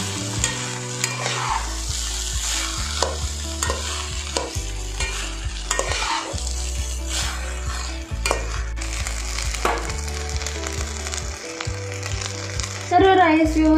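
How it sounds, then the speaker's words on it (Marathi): Rice for egg fried rice being stir-fried and mixed in a pan, loud repeated scraping and stirring strokes in a steady rhythm over a continuous sizzle, with a brief clatter near the end. "राईस टाकून झाल्यावर व्यवस्थित असं सर्व मिक्स करून घ्यायचं आहे बघा"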